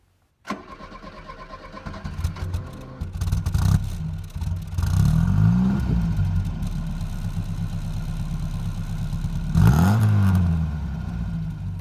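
A Ford Fiesta XR2 with a warm 1.6 engine, heard from the rear, catches and settles into a steady idle, then swells through repeated revs with two pronounced blips, alone and fairly close.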